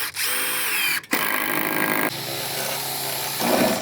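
Power drill running close and loud while installing stainless steel cable railing, a steady whine with a brief stop near the start and a shift in pitch midway.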